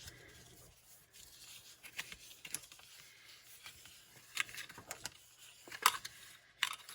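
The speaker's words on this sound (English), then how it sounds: "I'm going to burnish these score lines" Paper score lines being burnished with a tool, giving soft, close scraping and rubbing strokes that come in irregular bursts and grow sharper toward the end, with no talking.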